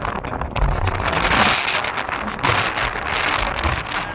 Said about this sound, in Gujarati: આપણે બધી બધી જગ્યાએ વરસાદ વરસે છે